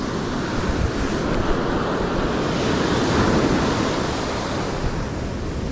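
Ocean surf breaking on a beach on a fall morning, a loud continuous roar of waves washing in with wind buffeting the microphone, no voices.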